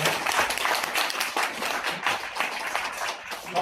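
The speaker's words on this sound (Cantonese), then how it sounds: "我哋俾啲掌聲啊嘛" Audience applause at a church gathering, a steady wash of clapping hands from a crowd filling the room for several seconds, moderately loud with a faint voice or two underneath.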